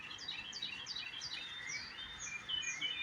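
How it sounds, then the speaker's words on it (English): Birds chirp and tweet on a morning after a tornado, a run of quick repeated high chirps followed by sweeping whistled calls, clear and fairly close over soft background noise. "The birds sound happy to have made it through the severe weather that we had,"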